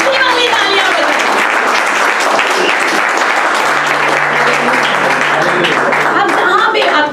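A church congregation claps loudly for Jesus in dense, continuous applause that fills the room from start to finish, with faint voices mixed in.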